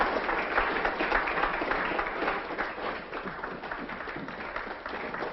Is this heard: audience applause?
yes